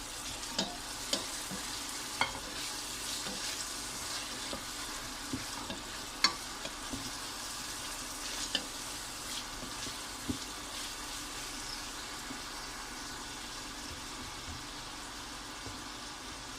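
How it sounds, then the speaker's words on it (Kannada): Tomato and green chilli frying in a pan for vegetable sajjige, a steady close sizzle with occasional light stirring clicks and scrapes, no voices. "ಟೊಮೆಟೊ, ಹಸಿಮೆಣಸು ಕೂಡ ಇದಕ್ಕೆ ಹಾಕ್ಕೊಳ್ತಾ ಇದ್ದೀನಿ. ಇದನ್ನು ಫ್ರೈ ಮಾಡ್ಕೊಳ್ತೀನಿ."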